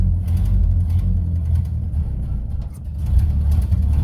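The engine of a 1931 Model A Coupe, just out of storage, idles close by with a steady, loud, low rumble and no break throughout.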